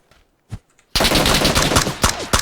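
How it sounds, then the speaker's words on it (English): Rapid automatic gunfire in the PUBG video game bursts in loudly after a near-silent second, a dense rattling volley with a few sharp single cracks near the end. "there's a guy shooting us"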